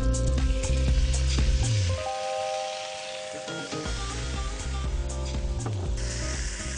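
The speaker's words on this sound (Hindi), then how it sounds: "आप चिकन को पतीले में डाल दें।" Chicken dropped into six tablespoons of hot cooking oil in a pot hisses and sizzles steadily beneath sustained tonal background music.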